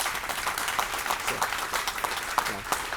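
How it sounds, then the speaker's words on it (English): Audience applause at a police memorial ceremony, a dense wash of many hands clapping steadily throughout at moderate loudness, with no speech over it. "So give him another round of applause."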